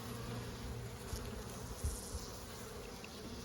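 Honeybees at an opened hive in Gascony, a continuous low droning buzz from many insects close by, with a few slightly louder swells as individual bees pass near.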